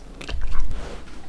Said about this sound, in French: si vous entendez encore en arrière-plan, c'est mon chien qui mâchouille